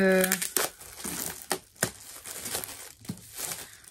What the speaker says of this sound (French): On va le déballer ensemble, celui-là.